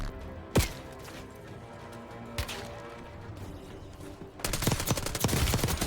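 SMG gunfire in Call of Duty Warzone with Black Ops 6 weapons: two isolated sharp shots, then a fast sustained burst of rapid automatic fire close by.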